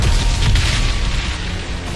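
Alien turret gun firing in the video game Crysis 3, a loud dense booming blast with crackling bursts that roll on and gradually fade slightly.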